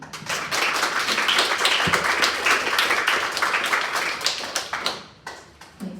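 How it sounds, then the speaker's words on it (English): Audience applause at the Women Startup Competition semifinal event in Vienna, a sustained round of clapping from a crowd that holds steady for about five seconds before thinning into scattered claps. "So please, warm applause to all of them also."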